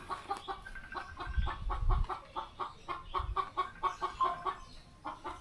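Chickens cluck repeatedly in a busy, uneven rhythm, with a few low thumps underneath; a farmyard flock heard nearby, no talking.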